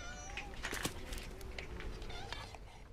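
A domestic cat from a village colony meows faintly against steady outdoor background noise, with a few brief mewing calls and no clear speech.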